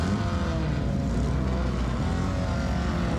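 Race cars at the start of a race at Laguna Seca, a steady loud engine roar that fills the whole clip, close and unbroken, with no talk.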